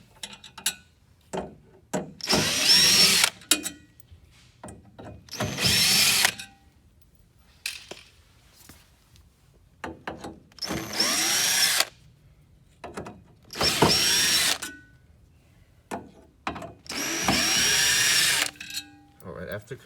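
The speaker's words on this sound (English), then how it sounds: "So we're gonna go ahead and open a total of six screws." A power drill removes six screws from the base of a hydraulic bed, sounding in repeated loud whirring bursts of a few seconds each, separated by quiet pauses and brief clicks.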